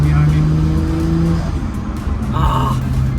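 A Nissan Skyline GT-R engine gives a short squirt of throttle on a street drive, a loud, close, throaty rev that rises and fades as voices talk over it.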